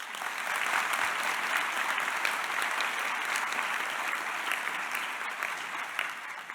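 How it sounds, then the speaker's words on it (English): Sustained applause from a sizable crowd at a healthcare sciences declaration ceremony, dense and even clapping that holds steady throughout before tapering slightly near the end. "give yourselves a warm round of applause"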